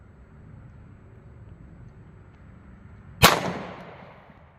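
A single sharp 9mm gunshot firing Sig V-Crown ammunition cracks once, loud and sudden, after a quiet stretch of faint outdoor background, then leaves a short decaying echo.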